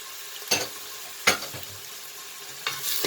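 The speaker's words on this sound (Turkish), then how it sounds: "Birazcık e, karıştırıyoruz, kavuruyoruz bu aşamada." Garlic and onion stirred and sautéed in a pan, with three distinct loud scrapes of the utensil against the pan over a faint, steady sizzle. No talking.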